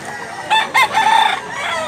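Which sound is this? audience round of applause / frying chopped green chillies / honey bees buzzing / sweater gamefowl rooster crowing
sweater gamefowl rooster crowing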